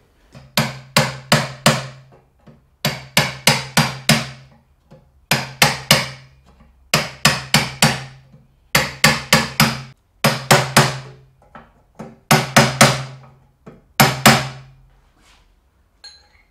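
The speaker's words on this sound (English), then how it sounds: "I'm just going to use a tool and gently hammer this edge down" Rapid metallic hammer taps on the bent edge of a KTM motorcycle radiator come in repeated bursts of four or five strikes, each sharp and ringing, with short pauses between groups and no talking.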